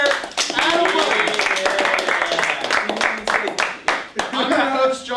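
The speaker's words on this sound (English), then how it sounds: "a round of applause for our cameraman with the orange hair" Applause for a cameraman on a panel-style talk show, with dense clapping running under overlapping talk and laughter throughout, fairly loud and close.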